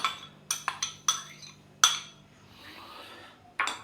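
Cold yogurt being stirred with fried gram-flour dumplings in a bowl for dahi phulki: a few sharp metallic clinks of a spoon against the dish, close and quiet, separated by gentle scraping.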